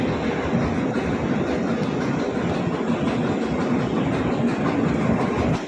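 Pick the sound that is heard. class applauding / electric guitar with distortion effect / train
train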